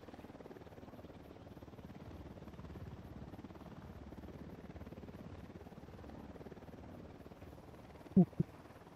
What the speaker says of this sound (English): That's the helo that landed on our way out for the the operation.